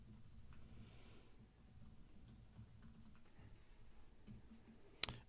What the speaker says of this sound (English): I'm sorry, I was typing.